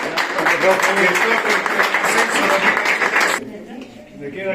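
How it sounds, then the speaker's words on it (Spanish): An audience applauds at a tribute event about the Cobreloa football club, with dense, fairly loud clapping and crowd noise that stops abruptly, leaving quieter room sound. "Así que un aplauso para don Emiliano."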